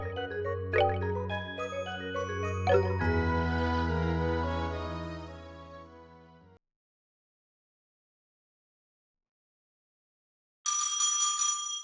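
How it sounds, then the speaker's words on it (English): A phone rings in the game Trails in the Sky the 3rd, a bright chiming ring that sounds once and then resumes after a pause of silence, over fading music. "Oh, that's a phone."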